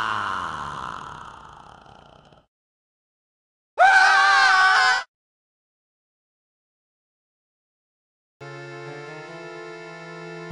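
A shrieking sound effect in a scary story rises abruptly out of silence, one loud, shrill, wavering cry of about a second, set between other brief effects with quiet gaps.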